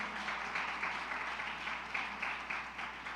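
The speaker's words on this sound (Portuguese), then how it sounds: "Queria que vocês aplaudissem a Deus pela vida do nosso visitante" A church congregation applauds together during a worship service in Vila Rosali, a steady even patter of many hands held for the whole stretch at moderate loudness, no voices over it.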